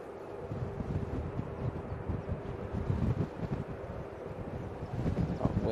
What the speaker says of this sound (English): Oh, wind getting up again.